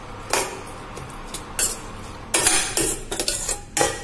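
A spoon mixing turmeric, red chilli, salt and garam masala into egg biryani in a metal pot gives off close, irregular clinks and scrapes, with sharper bursts of scraping toward the end.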